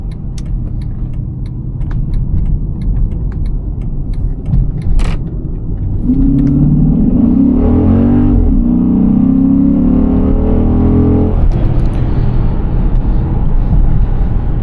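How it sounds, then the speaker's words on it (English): A 425 hp Dodge Charger SRT8 engine with stock exhaust idles and then revs up, a steady rumbling exhaust note that rises and holds loud and close. "I don't think the stock exhaust sounds bad"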